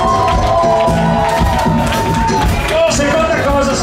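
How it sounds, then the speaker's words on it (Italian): Audience at a band's studio concert cheering and clapping, a lively crowd roar with whoops and shouts, loud and close, with voices mixed in. "Un applauso, grazie."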